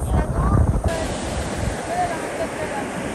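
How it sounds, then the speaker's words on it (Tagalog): Sea waves wash steadily at Cijin beach at night, a continuous broadband surf roar with wind buffeting the microphone, louder and more rushing in the first second before settling into an even wash. "Sarap pakinggan guys ng dagat pag ganyan."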